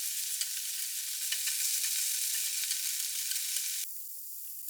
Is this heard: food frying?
yes